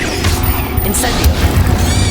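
Incendio fire spell cast in a Harry Potter video game, a loud booming burst with crackling whooshes and bright impact hits layered over a dense game soundscape.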